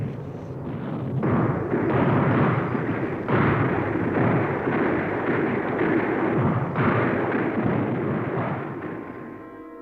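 Artillery cannon fire from the battle for Szczecin in 1945: a long, dense roll of heavy booms and rumbling blasts, loud and sustained, fading slightly at the end.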